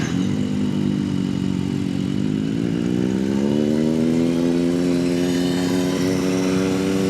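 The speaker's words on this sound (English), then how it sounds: "My big Goliath motorcycle I'm obsessed with." A big Goliath motorcycle engine drones loud and close while riding on a Kansas City street, its steady throbbing note sliding gradually upward in pitch as the bike picks up speed, with no voices.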